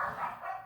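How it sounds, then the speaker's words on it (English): Dogs barking at home, a short, moderately loud burst of yapping barks with no talk over it. "There goes my dogs."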